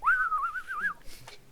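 A person whistles a short, wavering melodic phrase, loud and close, then it stops and a faint click and some light background noise follow.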